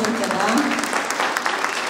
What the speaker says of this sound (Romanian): Și merită aplauze.